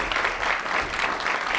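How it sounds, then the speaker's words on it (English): Audience applause for a guest speaker at a National Press Club luncheon, a steady wash of clapping from a seated crowd, moderately loud and continuous throughout the short stretch with no talk. "How about a round of applause for our guest speaker today?"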